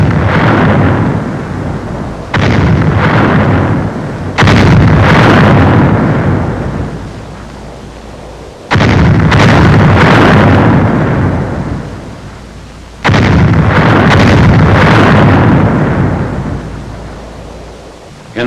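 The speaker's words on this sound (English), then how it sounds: "Final shelling of the town is directed by the 7th Field Artillery Observation Battalion" Artillery shelling of a town in World War II archive footage: four heavy booming blasts at intervals, each a loud rumbling impact that slowly decays, with no talking.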